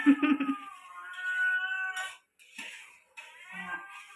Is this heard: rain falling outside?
no